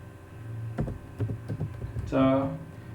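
Typing on a computer keyboard: a short run of close, distinct key clicks, followed by a brief tonal swell near the end.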